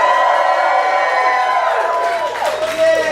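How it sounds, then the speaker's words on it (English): An audience cheers on cue, a loud continuous wash of crowd voices whooping and shouting together that holds strong for several seconds. "So on the count of 3, I want to hear you guys cheer."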